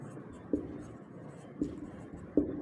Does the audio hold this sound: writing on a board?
yes